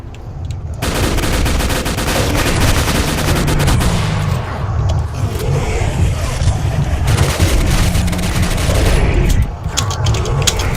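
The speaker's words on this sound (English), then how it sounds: "Which is essentially an MG42, a modernized MG." Rapid machine-gun fire from an MG42-style weapon in the shooter game Oblivion Lost, loud and dense, with sustained bursts running almost continuously, a brief lull near the middle, then renewed firing.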